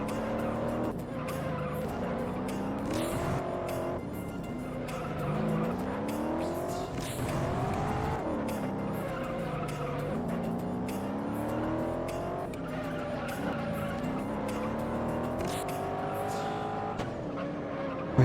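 A Corvette Z06 in a racing video game revs its engine with rising and falling pitch while the tires squeal through long skids, loud and continuous throughout.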